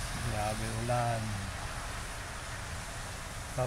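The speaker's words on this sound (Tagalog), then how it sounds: "Grabe ulan." Steady broadband hiss of heavy typhoon rain in Riyadh pours continuously, with a voice speaking briefly near the start above the downpour.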